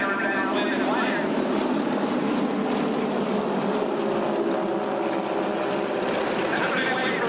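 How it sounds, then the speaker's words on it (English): T-34 training aircraft pass overhead at an air show, a steady broad propeller-engine roar holding throughout with faint crowd murmur beneath. "T-34s come overhead from your left right now"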